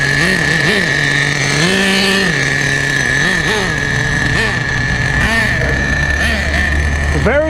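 A vintage 25-year-old Duratrax Nitro Quake nitro RC truck engine buzzing loudly and close, pitch rising and falling with repeated throttle blips over a steady high whine, with a voice occasionally heard beneath.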